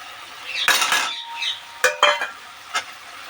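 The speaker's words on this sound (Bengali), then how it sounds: "এবার এর মধ্যে আমি ডিমটা অ্যাড করব" A metal spoon scrapes and clinks in a pan as an egg is stirred into a sizzling lentil chachchari, several sharp bursts of scraping over a low frying hiss.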